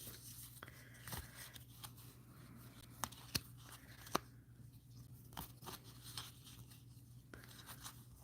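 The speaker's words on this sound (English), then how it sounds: "now what I'm doing is I'm shuffling until the cards or my heart tells me to stop shuffling" Quiet, soft rustling and flicking of oracle cards being shuffled, with a few sharper snaps spaced irregularly over a faint background hum.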